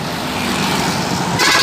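A CRG intercity bus on a Sumatran highway rushes close past, a broad roaring engine and tyre noise that holds steady and then swells brighter at the end as it nears.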